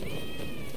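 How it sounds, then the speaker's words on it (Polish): A cat meows once in Rise of the Ronin on PS5, a sustained, fairly loud tone over a constant background hum, with no talking. "Słyszałem gdzieś tej kotka"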